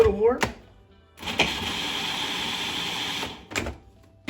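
A food processor whirs loudly as it chops cauliflower into rice, running steadily for a couple of seconds between short bursts, with a voice speaking briefly at the start.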